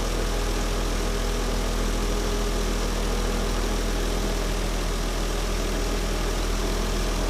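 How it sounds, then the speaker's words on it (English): A Toyota Supra or Lexus IS engine idles with a suspect motor mount, giving a steady, close, even hum and vibration throughout with no voices over it. "you can hear those vibration noise coming from somewhere in the front here"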